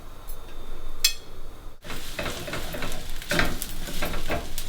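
Garlic and green onion frying in a skillet, a continuous loud sizzle with stirring and scraping of the pan bottom, close up and without talk, broken by a short pause partway through.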